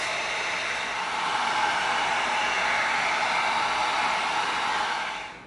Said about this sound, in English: we're gonna get our heat gun out. We're gonna seal it real fast.